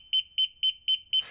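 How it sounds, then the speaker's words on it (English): Ansul Checkfire 210 fire suppression alarm sounder pulsing, sharp high electronic double beeps repeating at a quick, even rhythm, loud and close, with a burst of noise at the end. "the push to activate alarm when lit LED and sounder will pulse 4 times per second"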